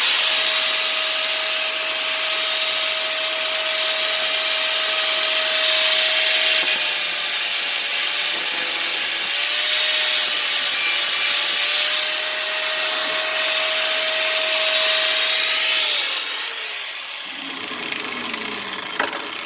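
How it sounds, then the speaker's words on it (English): A power grinder works steadily against the inside of a chrome car wheel, smoothing rough loose spots while fixing an air leak, a continuous high whine with shifting pitch that holds for most of the stretch before winding down and stopping. "we're looking for any loose on the inside, and we want to grind that off if there's any loose spots"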